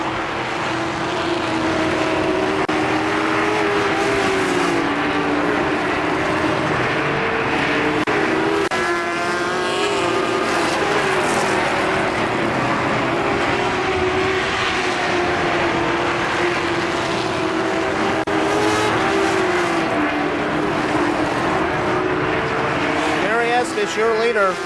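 Race cars racing at KilKare Speedway during the July 4th Championships, a loud continuous roar of several engines circling with rising and falling pitch, heard under a track announcer talking throughout.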